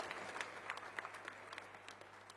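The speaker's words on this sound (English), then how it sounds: "Please give yourself a hand." An audience at an all-party delegation event claps in a faint, steady patter of many hands, heard from a distance with no voices over it.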